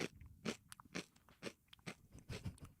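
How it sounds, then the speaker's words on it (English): Crunchy buffalo-sauce dip snack chewed right into a microphone: a steady run of close, loud crunching bites and crackles with no talking. "Chewing into the microphone."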